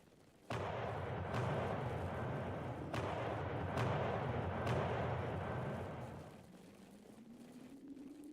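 Musket volleys and artillery fire boom through a Napoleonic battle in the strategy game Combat Directive: Napoleonic Wars, heavy rolling gunfire with several sharp cannon reports spaced a second or so apart, then fading into a lower rumble.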